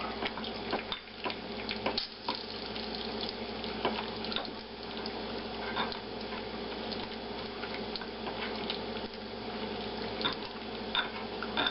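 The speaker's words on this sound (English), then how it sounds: "Add some water here. About half as much water as you have flour." Water poured into flour and stirred into biscuit dough for a camp breakfast, a steady close trickle and wet splashing with soft scraping and clinks of mixing throughout, no talk.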